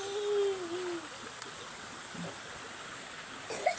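A mountain creek, fed by mountain runoff and rainwater, flows in a steady broadband rush of water, fairly close, with no talking.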